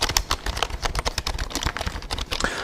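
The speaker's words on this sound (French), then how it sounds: "C'est sûr que c'est pas un clavier extraordinaire, mais ça peut dépanner." Rapid clicking of keys on an inexpensive computer keyboard, a steady stream of close, crisp taps with no voices.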